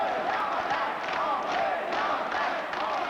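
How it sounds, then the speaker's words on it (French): A hockey arena crowd starts a rhythmic chant, voices swelling in repeated pulses roughly every second, loud and massed, with some thumping beneath. "Et on entend la foule qui commence à scander quelque chose."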